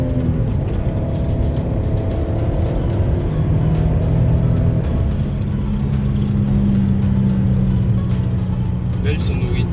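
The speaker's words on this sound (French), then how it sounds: "Belle sonorité du moteur atmosphérique déjà, quelque chose de pas mal" Porsche Cayenne with a naturally aspirated 3-litre V6 in sport mode, heard from inside the cabin as a steady low engine drone that swells slightly in pitch, with someone talking over it.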